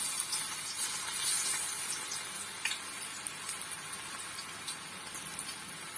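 Pumpkin pieces frying in hot oil in a kadai, giving a steady, fairly quiet crackling sizzle with small pops, with no talking.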